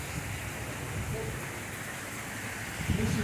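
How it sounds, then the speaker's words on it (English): Rain falls steadily and fairly softly outdoors during a stop on a Harley-Davidson motorcycle ride, a continuous hiss with slight swells and no voices. "as you can see, It's raining"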